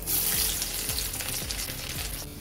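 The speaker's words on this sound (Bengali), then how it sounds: "তেলটা গরম হয়ে গেলে এর মধ্যে দিয়ে দেবো অল্প পরিমাণে সাদা জিরে, একটা শুকনো লঙ্কা ফোড়ন, আর দিয়ে দেব 7 থেকে 8 কোয়া রসুন কুচিয়ে নেওয়া।" Cumin seeds, a dried red chilli and chopped garlic sizzle in hot mustard oil in a pan, a steady crackling hiss with small spitting pops and a faint periodic scrape of stirring throughout.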